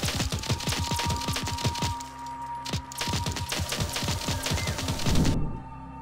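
A minigun fires in Fallout 4 with a drum magazine, loud close bursts of very rapid shots, a brief pause and then another long burst.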